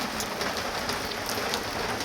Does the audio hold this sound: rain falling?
yes